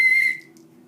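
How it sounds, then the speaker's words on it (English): A pea whistle gives one short, sharp, high blast that cuts off quickly, leaving a faint low hum behind it. "You blow in it and there's a little, can you hear that?"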